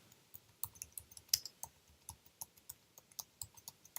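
Typing on a stiff computer keyboard, a run of sharp, close clicks in an uneven rhythm, each keystroke distinct and fairly quiet, with no talking.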